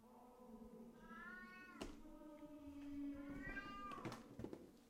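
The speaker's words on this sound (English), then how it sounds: "There's my spooky cat, Kitty." A cat meows several times, drawn-out and wavering, close by, with a couple of sharp clicks in between over quiet background noise.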